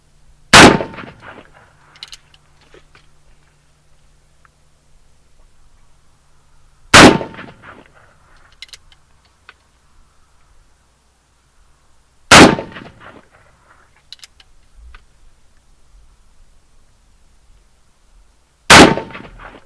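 Uberti Walker revolver firing at a target, four loud single shots spaced about six seconds apart, each a sharp blast with a brief ringing tail, in quiet surroundings.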